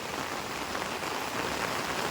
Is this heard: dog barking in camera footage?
no